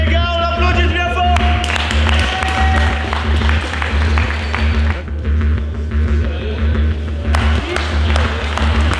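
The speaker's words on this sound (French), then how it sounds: "Les gars, on l'applaudit bien fort." An audience at a fight event applauds the fighters with steady, dense clapping under a constant low hum.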